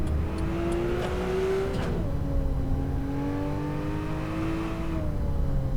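A race car engine in the Assetto Corsa driving game drones steadily, its pitch climbing through a gear, dropping at a shift, then rising again, loud and close with no voices.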